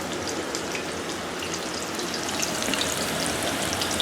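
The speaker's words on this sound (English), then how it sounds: "This is about what you want it to look like when it's frying properly." Chicken cutlets for chicken parmesan fry steadily in a pan over a moderate flame, giving a dense, even sizzle that holds close and continuous without pause.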